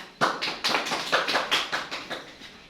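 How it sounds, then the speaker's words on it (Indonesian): A classroom audience claps sparsely, about ten distinct claps in a loose, uneven rhythm, moderately close and with no talking over it. "Beri tepuk tangan"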